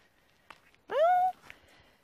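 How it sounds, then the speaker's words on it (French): A single clear cat meow in a forest, drawn out and rising then falling, close by, with faint rustling before and after. "Plus il appelle, ce chat, le pauvre."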